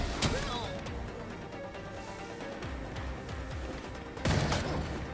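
Gunfire in a Batman video game: dense, continuous game audio with sharp shot-like bursts near the start and a loud impact just past four seconds, running under a player talking throughout.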